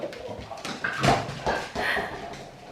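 A dog whimpers and whines in short, high bursts against a busy, noisy background, fairly close.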